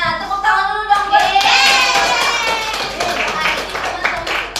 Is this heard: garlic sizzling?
no